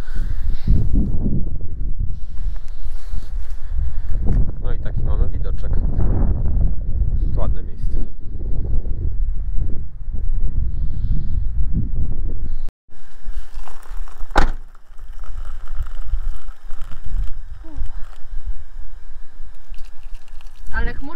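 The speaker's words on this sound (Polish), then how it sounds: "No bo wieje strasznie wiatr" Strong wind buffeting the microphone in low rumbling gusts while people talk nearby at an outdoor camp beside a Suzuki Jimny, the roar easing briefly before returning.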